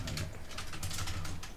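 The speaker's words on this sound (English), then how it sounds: "I need to type this in." Typing on a computer keyboard, a rapid run of close, crisp key clicks at an uneven pace over a low background hum.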